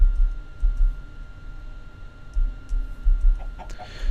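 A chicken in the video game Minecraft gives a few short, faint clucks near the end, over a steady low rumble with no talking.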